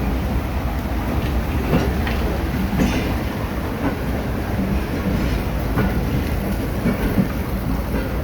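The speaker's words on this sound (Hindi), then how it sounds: "रेलवे जंक्शन 2 नंबर पर लग रही है गाड़ी" A train rumbles steadily along a flooded track at Lahore railway junction amid heavy rain, with a constant low roar and faint rhythmic clatter throughout.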